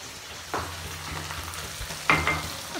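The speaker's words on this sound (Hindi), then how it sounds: "अभी मतलब भिंडी फ्राई हो रही है" Okra (bhindi) frying in a pan in a home kitchen, a steady low sizzle with a couple of brief louder stirring scrapes, close and alone.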